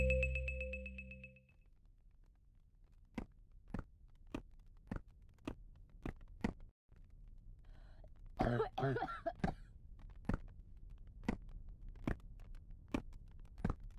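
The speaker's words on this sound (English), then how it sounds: "Here, drink some water to help your cough go." A burst of harsh coughing from a video game midway, set among a steady series of sharp, evenly spaced clicks, with a brief electronic tone at the start.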